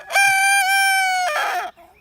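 Rooster from a bachelor flock crows once, close and loud, a single drawn-out cock-a-doodle-doo with a sustained tone and a rougher trailing end before it cuts off.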